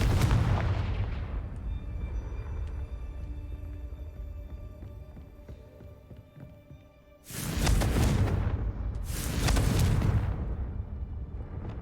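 Confringo blasting spells detonate in a Harry Potter video game. A low rumbling blast fades over several seconds, then two loud, sharp booming explosions hit close together with heavy low-end crackle and no talking.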